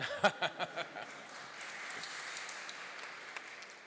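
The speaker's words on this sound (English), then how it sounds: "Yes, you can clap them if you wish." Members at a Southwark Council assembly give faint applause: a few distinct claps up front, then a soft, distant wash of clapping that lingers quietly.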